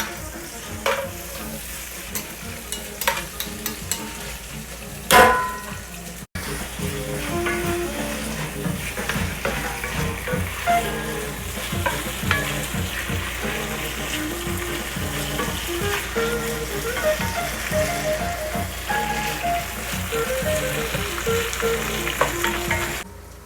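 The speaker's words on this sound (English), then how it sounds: "And then we'll add our julienne onions. And we'll just give a quick stir." Julienne onions and potatoes sautéing in a pan, a continuous sizzle with scattered scrapes and knocks from stirring, one sharp clatter early on, close up and without talking.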